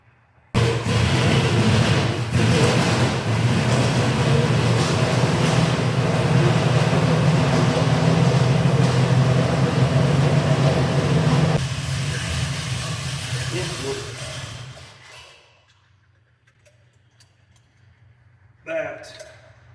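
A Ford Mustang engine with a stuck carburetor needle and seat runs loud and steady just after starting, then drops off and dies away, with a brief knock near the end.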